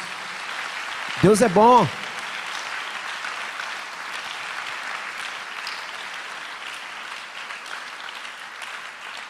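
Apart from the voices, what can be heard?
church congregation applauding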